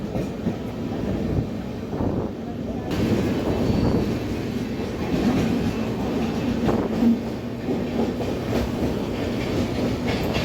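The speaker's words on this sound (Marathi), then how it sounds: "आपली ट्रेन जी आहे ती दादर रेल्वे स्टेशनवर पोहोचणार आहे थोड्याच वेळात." The Deccan Queen Express rolls on the Pune to Mumbai line during monsoon rain, a steady rumble and clatter of wheels heard from inside the carriage, continuous and moderately loud with no talk.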